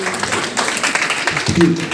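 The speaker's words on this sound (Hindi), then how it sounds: "एक बार जोरदार तालियां नहीं याद होने वालों के लिए" An audience applauds at a motivational training seminar, a steady wash of clapping running the whole time beneath a voice as he keeps talking over it.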